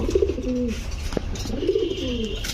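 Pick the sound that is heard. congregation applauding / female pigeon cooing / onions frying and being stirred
female pigeon cooing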